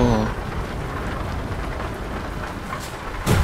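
Steady rain pours down in Euro Truck Simulator, with sunshine at the same time, a constant broadband hiss holding at an even level throughout, briefly louder at the very end.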